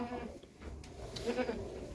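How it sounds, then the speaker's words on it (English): Goats and sheep bleat close by on a farm, with a few short, wavering calls over a quiet background. "this is where we are right now with my goat and sheep"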